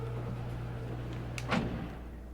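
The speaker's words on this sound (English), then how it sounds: "got our slidey door" A sliding door opens in the video game Blue Prince, a brief whooshing slide with a soft thud near the end, heard over a low steady hum of ambient game sound.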